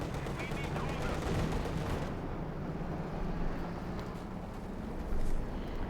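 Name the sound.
tank and infantry gunfire in Company of Heroes 2 video game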